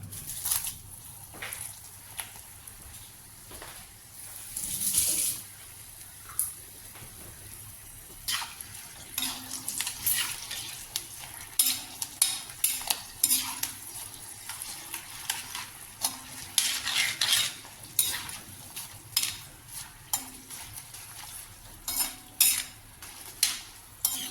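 Mango pieces frying in oil for a Kerala fried mango pickle, with repeated metal spoon scrapes and clinks against the pan over a steady low sizzle, close and fairly busy throughout.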